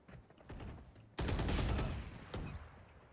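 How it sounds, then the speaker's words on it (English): Video game gunfire crackles in rapid bursts as the player is shot, a dense rattling volley in the middle with quieter shots before and after, fairly faint overall. "Being shot."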